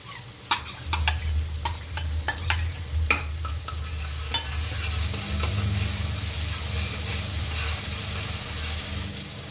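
Sharp scraping clicks of a spatula stirring in a pan, then a steady frying sizzle of ginger-garlic paste that continues on its own.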